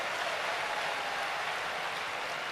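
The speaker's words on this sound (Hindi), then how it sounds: "एक बार इन बच्चियों को जरा ताली बजाओ" An audience applauds for a group of uniformed girls at a large religious discourse gathering in Banda, Uttar Pradesh, producing steady, dense clapping that stays even throughout with no voices.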